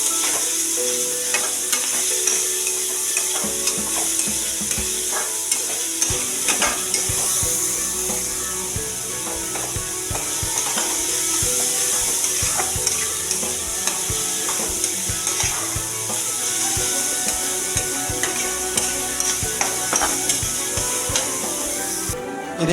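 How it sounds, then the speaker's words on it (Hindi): Finely chopped onions frying and sizzling in a pan, a steady loud hiss with repeated scraping and clattering as they are stirred, no voices. "ये देखिए दोस्तों, यहाँ पर अभी हमारा प्याज अच्छे से भून चुका है।"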